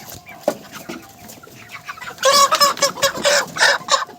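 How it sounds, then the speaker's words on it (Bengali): A poultry rooster clucks in loud, agitated bursts as it is grabbed, preceded by a few scattered thuds and squawks, then rapid repeated cackling close to the listener. "এটা ধরা হবে, এটা মোরগ।"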